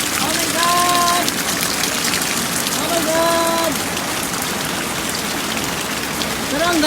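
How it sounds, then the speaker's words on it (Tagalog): Heavy rain pours onto leaves in a steady, loud hiss of dense drops, while a voice sings faintly in the background. "Ang lakas ng ulan."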